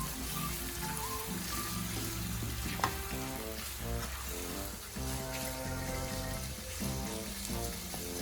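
Pork frying in a pan for string bean adobo, a steady sizzle running under loud background music for the whole stretch, with no talking.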